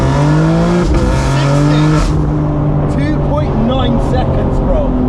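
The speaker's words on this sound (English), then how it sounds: "we're gonna do a 0 to 60" An 880 bhp BMW M4 G83 convertible launches hard from 0 to 60 on a street, its engine roaring loudly and rising through the gears with tire noise, close and dominant, with people talking briefly.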